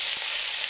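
Braciole frying in a pan with caramelized onions, a loud, close, even hiss of sizzling oil held for a short moment.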